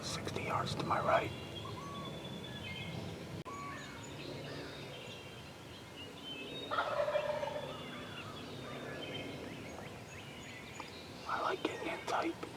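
Wild turkey gobbling from its roost about 60 yards off in a New York hunting setting, several loud rattling bursts at intervals amid faint whispered movement nearby.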